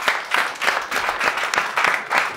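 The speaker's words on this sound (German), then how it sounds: "danke, großen Applaus dafür" Steady audience applause at a public panel discussion, many hands clapping in a close, continuous rattle with a lively, even rhythm throughout.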